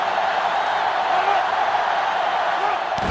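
A stadium crowd roars steadily during a college football game in NCAA Football 2005, a loud, unbroken mass of cheering with a brief rise near the end.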